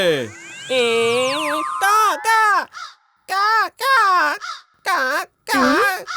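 A child cries in loud, drawn-out caw-like bursts that imitate a crow, about seven cries separated by short pauses.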